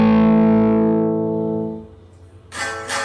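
An electric guitar played through a 1977 Marshall JMP amp with Gower Killer Kali mods rings out a distorted chord that slowly decays, followed by a fresh, bright strum near the end.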